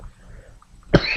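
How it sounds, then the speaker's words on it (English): After a near-silent pause, one person gives a single sharp, loud, close cough at the end. "Still have a bit of a cough"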